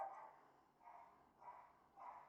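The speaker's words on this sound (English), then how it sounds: "Sorry, that is my dog." An excited dog barks in a quick series of about four bursts, moderately close and fairly quiet, with no talking over it.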